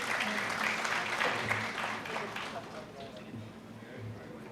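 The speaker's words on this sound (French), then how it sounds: "Sous vos applaudissements, monsieur le président." Audience applause at the launch of a women's election mobilisation campaign, fairly quiet and steady clapping from a crowd, with murmuring voices underneath.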